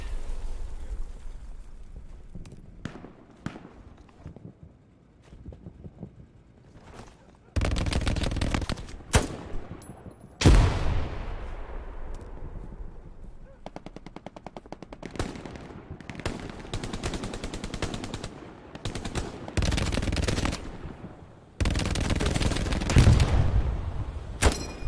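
Intermittent bursts of machine gun fire in the World War II shooter Hell Let Loose, loud close volleys alternating with quieter distant shots and booms over several seconds, with no talk.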